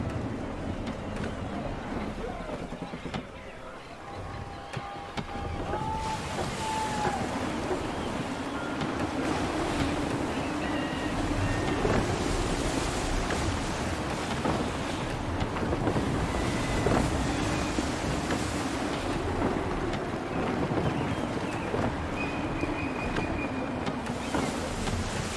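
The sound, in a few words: gusty wind at sea from the video game Assassin's Creed 3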